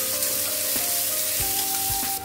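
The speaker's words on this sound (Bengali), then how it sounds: "পেঁয়াজটা একটু ব্রাউন করে ভেজে নেবো প্রথম" Chopped onions browning in hot oil in a kadai, a loud continuous sizzle close by with occasional stirring knocks, alone without talk.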